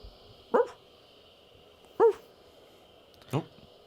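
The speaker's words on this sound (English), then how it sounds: "It's a dog." A dog barks three times in a hot, quiet outdoor setting, each bark sharp and separate with long pauses between, fairly close over a faint steady background hum.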